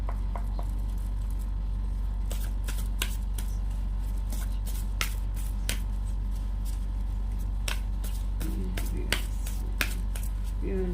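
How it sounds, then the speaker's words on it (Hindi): A deck of oracle cards is handled close by, with quick, crisp riffles and snaps of cards being shuffled and drawn, scattered irregularly over a steady low background hum. "मैं इसमें से भी पहले कार्ड्स निकाल लेती हूँ।"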